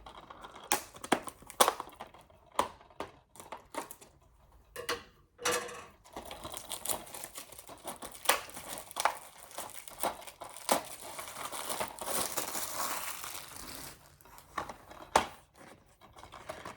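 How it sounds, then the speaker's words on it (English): Scissors cut open the plastic wrapping on a DVD case, close up. Sharp snips and bursts of crinkling plastic come in irregular clusters with short pauses between them, and no one speaks. "Need my scissors this time."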